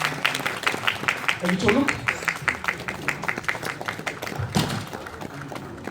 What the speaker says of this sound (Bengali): গৌতমদার জন্য একটা জোরে হাততালি